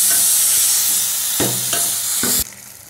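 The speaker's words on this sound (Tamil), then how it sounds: "இப்போ நல்லா வதக்கி விடுங்க" Tomatoes with onions fry in a pan for Tamil tomato sambar. A loud, steady sizzle is broken by several clanking stirs, then suddenly drops quieter near the end.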